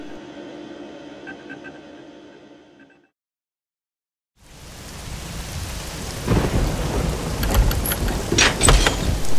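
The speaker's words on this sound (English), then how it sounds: "Don't just stand there in the rain, Mr. Conager." Heavy rain falls with thunder in a storm, a dense loud wash that drops out briefly and then returns stronger, with sharp crackling rumbles toward the end.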